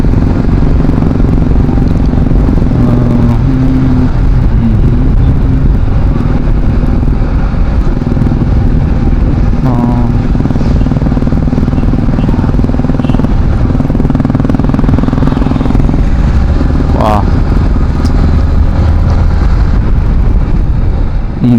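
Yamaha MT15 V2 motorcycle ridden on a new highway, its engine droning loud and close under heavy wind buffeting, with a few brief rising revs; no talking.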